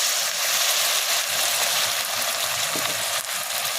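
Chilli paste for chilli paneer hits a hot pan and fries with a loud, steady hiss and crackle that carries on without a break, with no voices over it.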